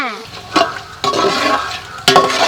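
Whole spices such as cinnamon, cloves and cardamom fry in hot oil with a steady close sizzle, while a spoon scrapes and stirs the pan in three distinct clanking strokes.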